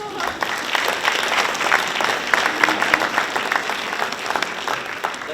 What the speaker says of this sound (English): I think we should clap to that one.